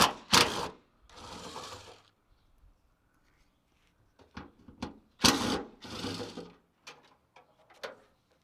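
Fasteners coming off a trunk latch mechanism on an Infiniti G35: short bursts of ratcheting and a whirring tool, two main runs with clicks and taps between them and quiet gaps, close and fairly faint.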